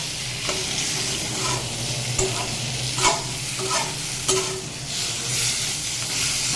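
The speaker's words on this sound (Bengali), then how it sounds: "এখন কচুর শাকটা মশলার সাথে বেশ ভালো করে মিশিয়ে দিতে হবে" Taro leaves are stirred with spices and sesame paste in an oily pan, loud sizzling frying under repeated scraping strokes of a spatula at irregular intervals, close and continuous, with no talking.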